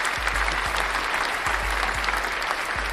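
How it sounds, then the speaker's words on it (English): An audience applauds at a comedy show, a dense, loud wash of clapping that holds steady for a few seconds, with a low rumble of thumps underneath. "I need some applause real quick though."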